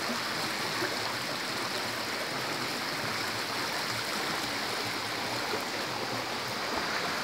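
Steady flowing water from the Bath Fountain mineral spring in Jamaica, a continuous broadband rush heard close and alone, with no voices over it.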